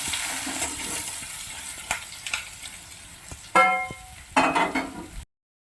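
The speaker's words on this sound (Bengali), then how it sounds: "এবার আমি পনিরের টুকরোগুলো এর মধ্যে দিয়ে দেব তেলের মধ্যে একটু নাড়িয়ে চাড়িয়ে উল্টে পাল্টে ভেজে নেব" Pieces of paneer hit hot oil for a shallow fry in a home masala paneer dish, a soft steady sizzle broken by a few sharp crackling bursts and clinks as they are turned and stirred.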